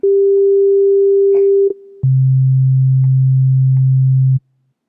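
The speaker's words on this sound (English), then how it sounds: "So this is the sine wave." An Arp 2600 synthesizer plays a pure, smooth sine wave tone, loud and steady: a held mid pitch for under two seconds, a brief dip, then a lower sustained tone that cuts off cleanly.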